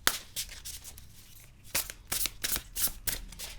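A large tarot deck is shuffled in several quick riffling bursts, crisp papery flutters close by with short pauses between them.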